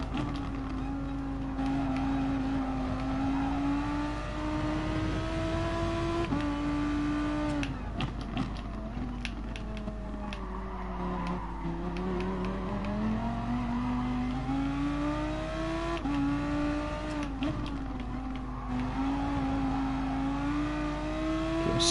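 In GT Sport, an Aston Martin and a Beetle race, their engines droning and rising in pitch through gear changes, a steady close whine with occasional tyre noise.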